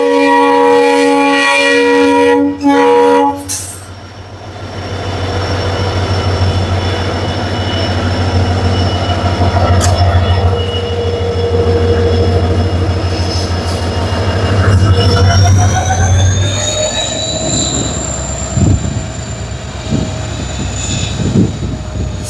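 A train rumbles steadily close by on the Pamban bridge, with a low droning hum, metallic screeches and rattling as it slows, ending in a high squeal of braking wheels.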